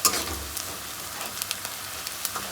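Onions frying in a pan give a soft, steady sizzle with faint crackles and a few small pops, nearby and without talking.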